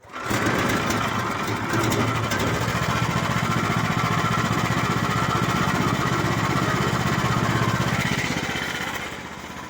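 Small engine on a vibrating potato digger starting and then running steadily, loud and close with a rapid buzzing rattle that holds for nearly ten seconds.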